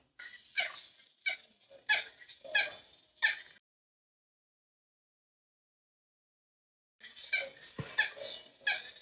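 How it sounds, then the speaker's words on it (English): A pet parrot squeaks in two clusters of short, bright chirps separated by a few seconds of silence, fairly close and moderately loud. "That's Parrot. That's squeaky noise."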